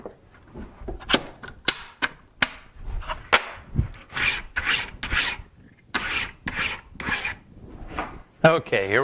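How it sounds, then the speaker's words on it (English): Card scraper shaving curly maple wood, producing a series of close, rasping scrapes in uneven bursts, with several sharp clicks and knocks between strokes. "Okay, here we go with curly maple."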